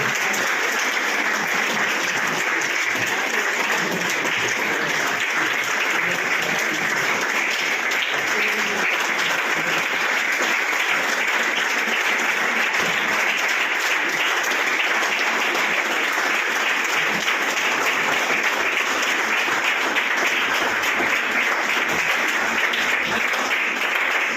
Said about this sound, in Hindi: तालियां बजाते रहिए, क्यों शर्मा रहे हो?